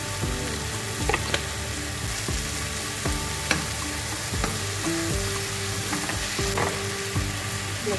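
Corned beef and cabbage sautéing in a pan, a steady close sizzle and crackle running throughout, with occasional utensil scrapes and taps against the pan.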